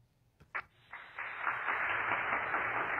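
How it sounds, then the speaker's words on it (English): A live studio audience breaks into applause on a jewelry shopping broadcast. A couple of isolated claps come first, then the clapping swells into a dense, sustained round that holds steady to the end. "Can I have a round of applause?"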